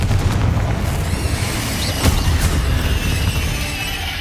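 A blasting spell explosion in Hogwarts Legacy: a loud, dense roar of detonation and debris that fills the whole stretch, with a sharper crack near the middle, no voices over it.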